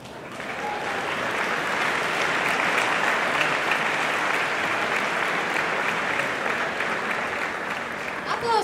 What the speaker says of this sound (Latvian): Aplaus, viņi nāk.